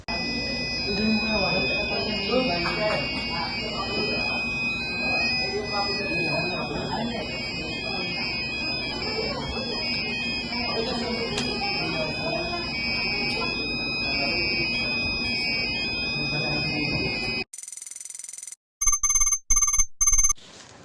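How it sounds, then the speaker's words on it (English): A piezo buzzer on a robotics lesson circuit sounds a steady high electronic tone whose pitch shifts as a potentiometer is turned, running continuously under background noise before ending in a few short sharp beeps. "we can adjust the pitch of the buzzer using"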